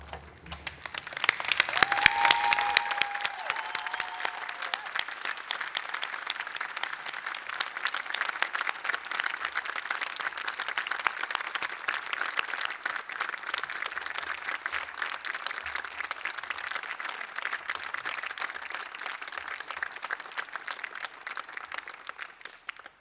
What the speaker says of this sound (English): give a round of applause to our graduates